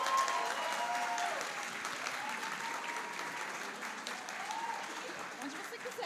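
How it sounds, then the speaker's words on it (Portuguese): Sustained audience applause at a lecture in Brazil, steady and fairly dense throughout, slowly easing in intensity toward the end. "Uma salva de palmas"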